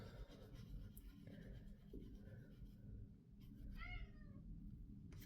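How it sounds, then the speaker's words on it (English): A pet cat meowing behind a shut door on a cold day, a few drawn-out, muffled meows in the latter half over a steady low room hum, with a faint voice early on. "He's meowing because I shut my door."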